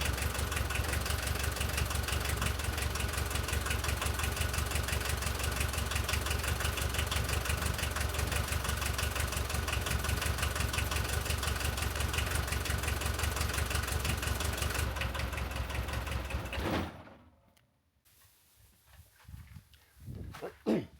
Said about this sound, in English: I going into the cabin and start the engine